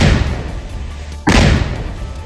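A blast set off to demolish a militant's house in Bandipora, Jammu and Kashmir, lands as one sudden heavy boom that cuts into steady broadband noise, with a dense rumbling roar continuing after it.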